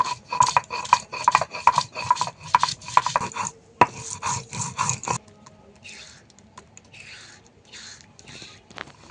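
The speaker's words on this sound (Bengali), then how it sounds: "দুটো কাঁচা লঙ্কা আর এইটুকু পরিমাণে আদা বেটে নেব কাঁচা লঙ্কা আমি মিহি করে বেটে নেবো" Green chilies and ginger being ground into a paste on a grinding stone, giving rapid rhythmic scraping strokes, close and loud, that stop halfway and give way to quieter handling noises.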